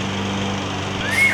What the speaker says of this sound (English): I prefer that the lawnmower was on because now I know that he can't hear me.